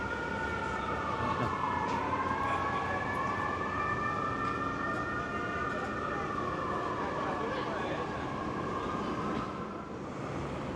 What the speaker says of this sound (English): I think it was a fire truck that was making all that noise